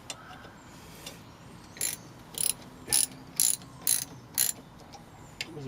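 A rattle inside a car brake drum as it is turned by hand: about six evenly spaced, sharp metallic clatters, close and fairly quiet, over a low steady background hum, with no talking.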